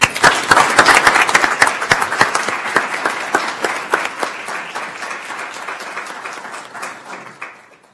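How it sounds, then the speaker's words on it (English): Audience applause at a county commissioners court meeting, a loud burst of many hands clapping that thins out and fades gradually over several seconds. "Round of applause, please."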